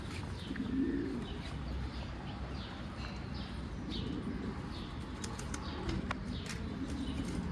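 Young pigeons coo softly in a coop in a garden, with low murmuring calls, faint chirps and occasional wing flutters over a quiet background.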